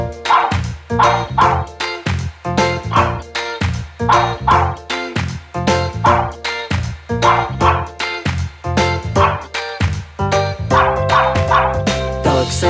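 A pug dog's barks are set into a children's song, with short yips falling rhythmically on the beat, loud and close over bouncy music throughout.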